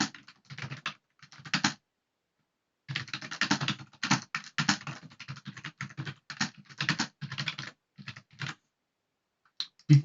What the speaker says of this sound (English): sorry for my bad typing there